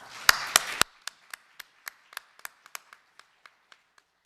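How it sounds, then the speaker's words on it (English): A few sharp claps ring out close by for event volunteers at a citizenship program morning session, then thin into a sparse, evenly spaced patter of single claps that fades. "So let's have a big applause for all the volunteers."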